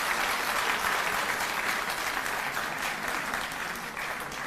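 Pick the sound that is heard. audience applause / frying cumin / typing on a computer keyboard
audience applause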